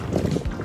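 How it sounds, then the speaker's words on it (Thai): Strong wind roars and buffets the microphone during a kayak trip through the Tam Lod cave area of Phang Nga Bay, a steady, loud low rumble with gusty swells and no speech. "ลมแรงนะนี่"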